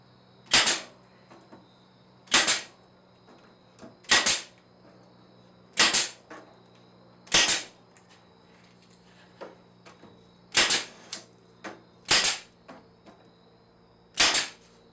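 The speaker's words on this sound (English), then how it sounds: "Why I love nail guns." A pneumatic nail gun drives nails into a wooden bookcase during a repair, firing about nine sharp, loud, separate shots at irregular intervals over a steady low hum, each followed by a faint knock.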